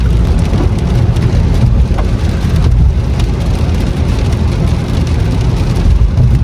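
Steady rain hissing with a heavy low rumble, loud and continuous throughout, no talking.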